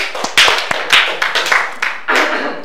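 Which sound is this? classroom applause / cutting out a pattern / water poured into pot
classroom applause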